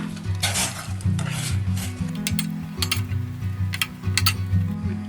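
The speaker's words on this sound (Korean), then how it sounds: "이 밤까지 설탕물에 졸여줄 거예요." Chestnuts simmering in sugar water in a pot, stirred with a utensil that clinks and scrapes against the pot in bursts over a steady bubbling sizzle, close and fairly loud.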